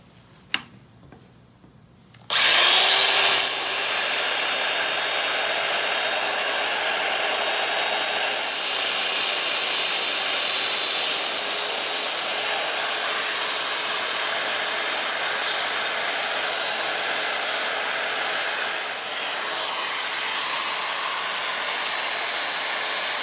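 A Festool power tool cutting mortises in wood for sawhorses spins up abruptly after a few quiet seconds and then runs steadily with a loud, high whining roar for the rest of the clip.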